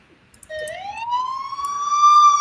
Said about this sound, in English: are you hearing that siren?